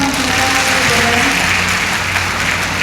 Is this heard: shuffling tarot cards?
no